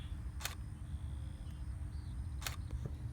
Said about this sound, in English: That shutter though.